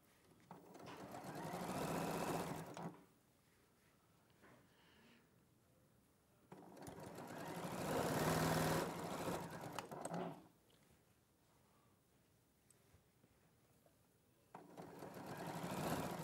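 A sewing machine stitches a highland cow wall hanging in three loud bursts, each a few seconds long, with quiet pauses between them.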